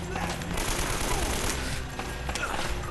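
Gunfire in the video game Uncharted, a dense, steady rattle of shots and impacts lasting throughout with no break.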